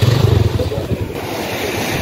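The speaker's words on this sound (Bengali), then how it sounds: "সমুদ্রের গর্জন দেখুন।" Sea surf rumbles at Bakkhali beach in West Bengal, a loud continuous roar of breaking waves with gusty wind buffeting the microphone.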